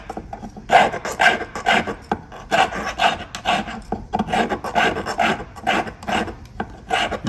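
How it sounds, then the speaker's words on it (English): A hand file rasps steadily against a metal jewelry piece in quick, even strokes, loud and close, with a regular back-and-forth rhythm and no talking. "files cut on the forward stroke"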